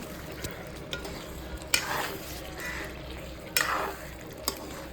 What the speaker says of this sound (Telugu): చూడండి మసాలా కూడా ఫ్రై అయిపోయింది ఒకసారి బాగా కలపాలన్నమాట